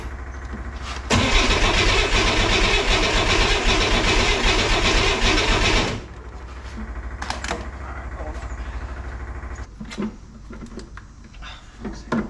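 A 1963 Corvair engine cranks without firing, the starter grinding in a loud, rhythmic churn for about five seconds before stopping, followed by quieter clicks and handling noises.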